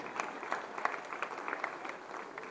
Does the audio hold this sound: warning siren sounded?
no